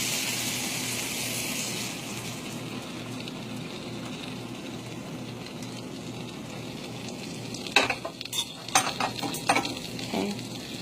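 Four beaten eggs poured into a hot frying pan for an omelette, a steady sizzle and frying hiss, with a few sharper clinks and scrapes of stirring near the end.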